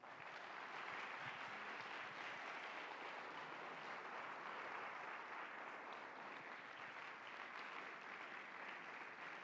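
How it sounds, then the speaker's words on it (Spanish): An audience at a seminary school ceremony gives sustained, even applause for graduates, a dense wash of many hands clapping at moderate distance throughout. "le damos un fuerte aplauso"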